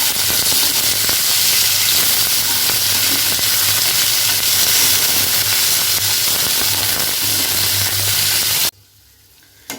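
Boiled vegetables for a Bengali shukto fry in hot oil with a steady, loud, continuous sizzle and hiss that runs for nearly ten seconds before cutting off abruptly near the end.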